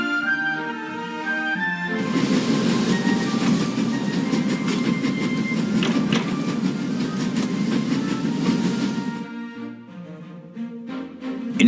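A train runs steadily on rails in the video game The Raven, a loud, continuous rumble with rhythmic wheel clatter that begins after a quieter opening and fades near the end.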